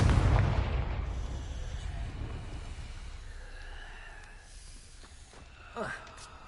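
A Confringo spell explodes in Hogwarts Legacy, a loud low boom at the start that decays into a long rumbling tail, with a brief sharper burst near the end over faint game ambience.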